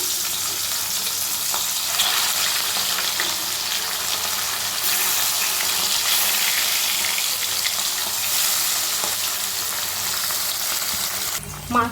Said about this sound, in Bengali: এবার মাছগুলো একে একে ভেজে নেব।